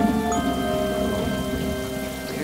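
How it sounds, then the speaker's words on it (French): Heavy rain pours steadily in a thunderstorm, a dense, loud hiss of drops hitting surfaces with low rumbling underneath, continuous and without voices. "C'est juste un orage."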